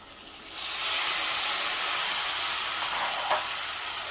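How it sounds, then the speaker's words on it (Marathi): Vegetables sautéing in hot ghee in a pan for a vegetable pulao, a steady broad sizzling hiss that swells in after half a second and holds evenly, with no voices. "भाज्या थोड्या परतून घेते।"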